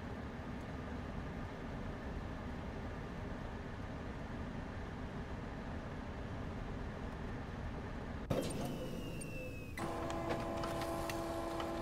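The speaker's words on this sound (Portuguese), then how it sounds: "Vamos fazer a impressão aqui dos posters." In the Five Nights at Freddy's 6 video game, a printer churns out posters with a steady mechanical whir and a rushing drone. Partway through it shifts to a brighter grinding with a rising tone and sustained pitched hums.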